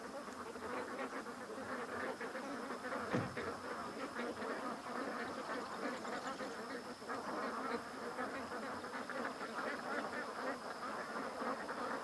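Ducks quack in a scattered, distant chorus over a steady background hum of chirping and insects on a morning waterside, with no voices.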